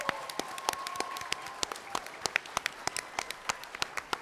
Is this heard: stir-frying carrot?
no